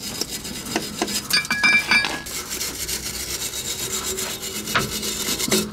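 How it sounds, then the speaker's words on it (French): Wire brush scrubbing an original exhaust pipe while fitting a replacement silencier, rapid irregular rasping strokes up close with brief metallic clinks, no speech. "Nettoyez le tube d'origine avec une brosse métallique."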